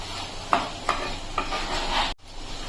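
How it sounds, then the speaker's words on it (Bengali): A utensil scrapes and stirs powdered milk into flour in a bowl, a few soft strokes with brief scraping accents, close and fairly quiet. "এখন আমি ভালো করে মিশিয়ে নেব"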